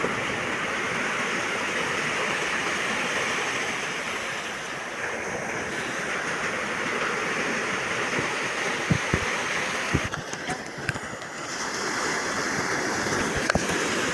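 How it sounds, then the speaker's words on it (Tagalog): Large sea waves roll and break near a small fishing boat on open water, a continuous loud surf roar with wind buffeting, and a few sharp knocks toward the end. "laki ng alon"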